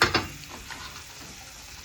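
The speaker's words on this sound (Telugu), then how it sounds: "ఇప్పుడు ఆయిల్ వేడెక్కిపోయింది ఎండుమిర్చి వేసుకుందాం" Dried red chillies drop into hot oil for a tempering, a sharp burst of sizzle at the start followed by a second splash, then settling into a soft, steady crackle close by.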